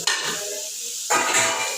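Sliced onions sautéing in a pan for chicken biryani, a loud close sizzle with scraping stirs, dipping briefly mid-way before surging again as the onions are turned.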